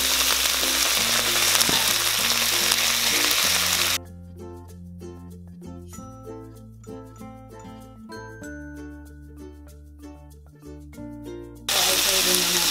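Soy sauce hits a hot frying pan and sizzles loudly and steadily up close. Music takes over the middle stretch before the hiss returns at the end.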